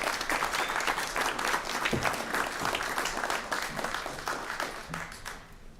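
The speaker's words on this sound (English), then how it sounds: "Give him a round of applause." An audience at a Blue Springs city council meeting applauds a state representative, steady clapping from many hands that holds for several seconds before thinning out toward the end.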